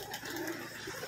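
A male giraboj pigeon coos softly in a short, low murmur, faint against a steady background with no talking.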